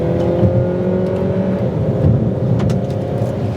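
A 2010 Saab 9-5 sedan pulls hard after a downshift into second gear, its engine note rising steadily in a loud, continuous drone heard from inside the car with no talking.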